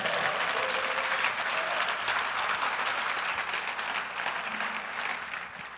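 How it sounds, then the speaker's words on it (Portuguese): Church congregation applauding for Jesus during a service, steady dense clapping that holds for several seconds before easing slightly, with no talk over it. "dê um forte aplauso a Jesus que Ele merece"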